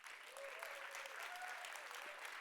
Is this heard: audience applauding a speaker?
yes